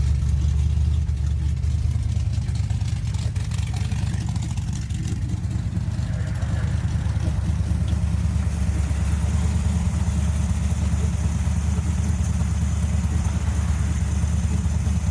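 A 1953 Ford Ranch Wagon gasser with a 383 stroker V8 and TH400 transmission runs steadily close by, a loud continuous low rumble with slight rise in revs partway through.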